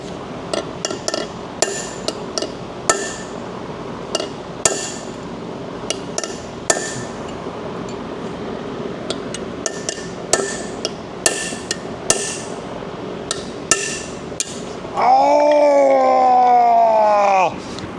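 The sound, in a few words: hammering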